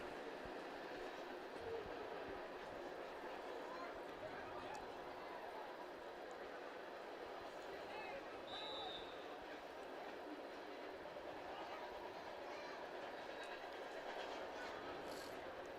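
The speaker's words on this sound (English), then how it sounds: "As the train moves across in the background." A train rolls steadily past in the background near a high school JV football game, a continuous low rumble with faint clatter and a brief squeal, distant and faint throughout.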